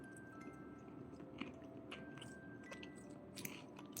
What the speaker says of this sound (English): you're going to hear my chewing